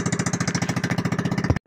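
A fishing boat's engine runs close and loud, thumping in a fast, steady rhythmic knock before cutting off abruptly.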